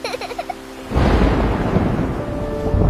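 Thunder in a rainstorm: after a quiet tonal opening, a loud crack breaks into a long rolling rumble over steady heavy rain.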